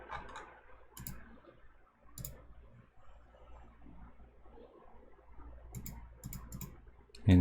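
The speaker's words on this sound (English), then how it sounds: "I'm gonna click apply" Single computer mouse clicks inside game-development software, sharp and close, scattered at irregular intervals with several quick clicks bunched toward the end over a faint room hum.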